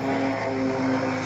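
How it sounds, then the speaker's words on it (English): Steady drone of a single-propeller airplane with one prop mounted on top, flying overhead, loud and continuous with a strong low engine hum throughout, no voices. "Check out this prop plane."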